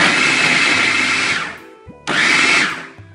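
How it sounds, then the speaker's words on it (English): A new food processor pulsing a head of cauliflower into fine rice: two loud, close whirring bursts, the first about one and a half seconds long, then a short pause before a second shorter pulse. "have one head of cauliflower in our new food processor"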